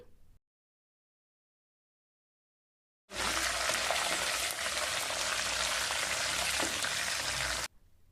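Chana dal, mustard seeds, cumin, curry leaves and dried red chillies hit hot oil for a tomato pickle tempering, setting off a loud, dense, steady sizzle. The sizzle starts abruptly after a stretch of silence and cuts off just as sharply.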